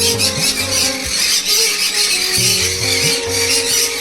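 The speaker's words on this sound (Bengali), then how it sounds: "অনেক কটা কনিউর।" Conure parrots kept in a cage setup squawk and squeal in shrill, overlapping calls, loud and close, filling the whole stretch without any talking.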